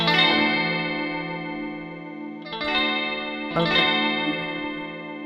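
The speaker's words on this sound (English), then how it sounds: "Or we can even go to the 9th chord." Three rich, sustained jazzy ninth chords on an electric keyboard with a chorus-like shimmer, each ringing out before the next is struck; no voices.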